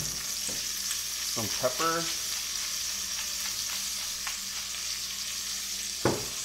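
Onion frying in a pan for cowboy beans, a soft continuous sizzle with a few utensil clinks and a brief spoken phrase.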